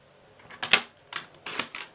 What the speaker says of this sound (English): I'm going to bring up my trimmer really quick, and we are going to trim down this piece right here